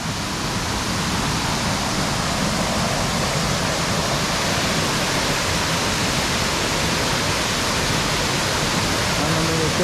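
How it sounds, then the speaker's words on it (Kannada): A waterfall gushes in a dense, steady roar of falling water, loud and unvarying from start to finish with no voices. "ಇಲ್ಲಿಯ ಜಲಪಾತ"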